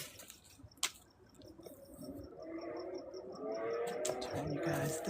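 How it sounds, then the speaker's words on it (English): Water sloshing and trickling as a chicken waterer is refilled outdoors in the garden, with a sharp clank early, then a rising splashing pour that grows louder toward the end. "Freshen up this water real quick."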